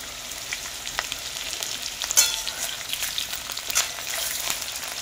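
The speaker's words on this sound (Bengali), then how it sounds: "প্রথমে আলু ভাজবো, তারপরে ফুলকপি ভাজবো। সামান্য একটু লবণ দিয়ে ভেজে নেব।" Potatoes fry in hot oil in a pan for khichuri, a close crackling sizzle with sharp spatters and occasional stirring clinks, moderately loud and without speech.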